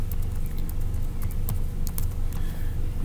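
Keys on a computer keyboard click in quick, uneven bursts over a steady low rumble, close and moderately loud, with no one speaking.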